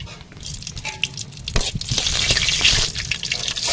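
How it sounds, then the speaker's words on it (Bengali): Dried red chillies fry in hot oil in a wok, a soft crackle that swells into a steady, fairly loud sizzling hiss after the first second and a half, with a few small pops and clinks. "শুকনো লঙ্কা দেবো তেলের মধ্যে"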